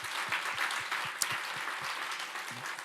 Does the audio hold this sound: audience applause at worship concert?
yes